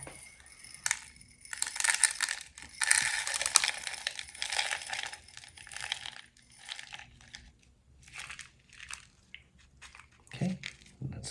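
Bonsai soil being mixed with perlite, a continuous gritty crunching and rustling of particles stirred by hand, loud in bursts and easing off toward the end.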